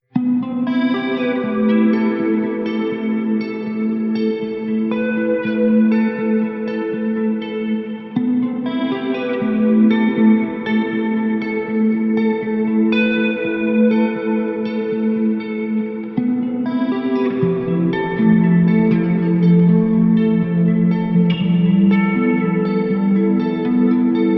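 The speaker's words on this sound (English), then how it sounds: "I made an ambient guitar arrangement that sounds like this" Ambient electric guitar plays an arrangement of a piece, slow, washed-out chords and arpeggios drenched in chorus and echo, sustaining smoothly for a long stretch.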